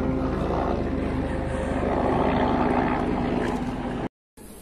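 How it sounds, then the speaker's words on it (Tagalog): A helicopter passing overhead, a steady droning engine and rotor roar held at even loudness before cutting off abruptly near the end, with no talk. "May helicopter tumadaan."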